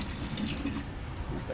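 Running water splashing steadily while lab glassware is rinsed under a tap, a continuous close wash with no talk.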